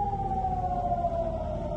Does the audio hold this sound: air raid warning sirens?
yes